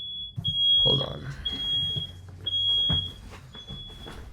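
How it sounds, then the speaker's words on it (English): A smoke detector sounds indoors, shrill single beeps repeating about once a second, loud and close. A person talks and moves about beneath the alarm. "the smoke detector is going off."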